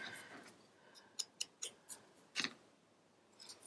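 Scissors snip by hand through a paper strip: a handful of crisp, close cuts in quick succession, then a pause and a few softer snips, in an otherwise quiet room.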